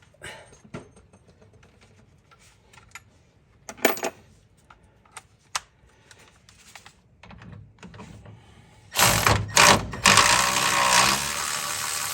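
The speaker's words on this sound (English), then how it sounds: "Let me get my electric ratchet." Electric ratchet whirring while loosening power steering components and the steering relay rod, loud sustained bursts near the end after quieter clicks and handling noises.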